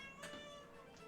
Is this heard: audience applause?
no